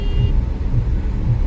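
Swift cars racing at high speed during a demo at the Kharnal Tejaji fair, heard as a steady, loud, low engine rumble that continues throughout with no voices.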